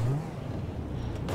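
An old-school car in GTA V Online drives along with a low, steady engine rumble and a brief rev at the start, fairly quiet and without talk.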